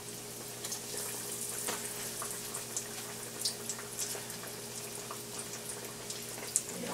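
Eggplant slices fry in a pan over medium-high heat, with a continuous gentle sizzle and crackle broken by small sharp pops, close and with no talking.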